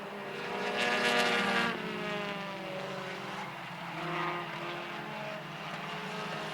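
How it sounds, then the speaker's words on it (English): A distant race car engine sputters down the backstretch, droning and wavering in pitch, rising and falling unevenly as it passes, fairly faint. "I hear that 77 car sputtering down the backstretch."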